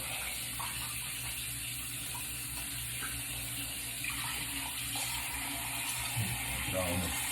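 A bathroom tap runs steadily while someone washes their face with soap, a continuous close gush with faint splashing and handling near the end.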